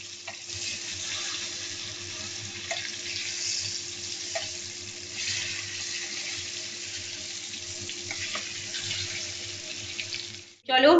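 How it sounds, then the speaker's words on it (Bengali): Eggplant slices deep-frying in a pan of very hot oil, giving a steady, close sizzling hiss that holds throughout and cuts off sharply at the end. "ছাকা তেলে কিন্তু বেগুনটাকে একদম ভালো করে ভাজতে হবে"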